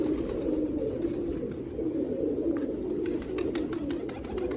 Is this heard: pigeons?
yes